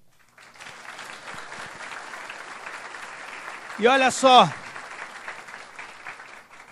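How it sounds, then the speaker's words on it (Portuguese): A church congregation claps in steady, sustained applause that fills the room, while someone speaks over it briefly partway through. "Então aplauda ao Senhor."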